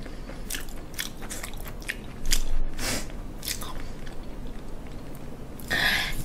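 Crunchy bites and chewing of live fish being eaten, a series of sharp crackling bites and moist mastication sounds close to the mic, with louder crunches near the middle and the end.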